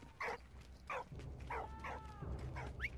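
A dog in the World War I game Valiant Hearts gives a series of short barks and yips, about five spaced bursts over a low game ambience, fairly close and clear.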